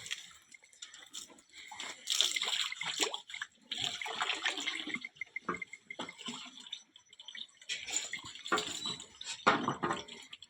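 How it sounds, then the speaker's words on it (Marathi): Water runs into a tank at a cattle shed, with splashing and gushing that come in uneven bursts and then ease off. It sounds moderately near and plays alone, without talk. "पाणी चालू करायचं टाकीमध्ये"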